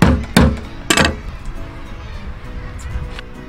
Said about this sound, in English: we just crack the claws here and let the heat into them